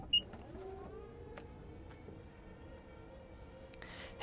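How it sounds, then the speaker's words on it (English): A 2021 Nissan Murano hands-free power tailgate opening with a faint, steady motor whir and slowly rising tone, a brief click near the start and a sharper thump as it settles at the end. "you are going to have a hands-free power one on the two top trims"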